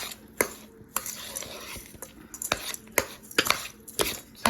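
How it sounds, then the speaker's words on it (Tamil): Gram flour, sugar, grated coconut and cardamom powder being stirred together in a bowl for Coimbatore-style obbattu, giving soft scraping strokes with sharp utensil clicks against the vessel, close and fairly quiet, with no talking. "அது கூட சர்க்கரை போட்டு கலக்கிறோம்"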